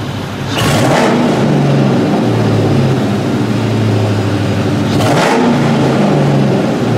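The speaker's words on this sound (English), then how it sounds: "Rev this up real quick for you guys." A 2004 Ford Mustang GT V8 revs up loudly twice, sharp throttle blips rising over a deep, steady idle rumble close to the engine, with no voices.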